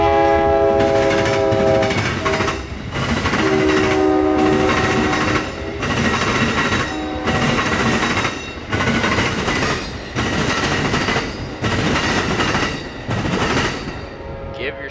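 Amtrak's northbound Silver Star passenger train rolls through Plant City, Florida, loud and close, with rumbling wheels, clattering cars and long horn blasts near the start, the roar rising and falling as the carriages pass.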